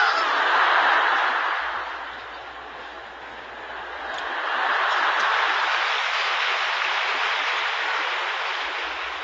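A large church congregation applauding during a Friday overnight worship service in a sanctuary holding around 15,000 people: a broad, dense wash of clapping that swells, dips slightly, then rises again and carries on steadily, with no voices over it.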